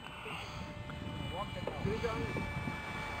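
A remote-control F-18 jet model landing and rolling out, with a steady whining engine hum underneath while people talk over it.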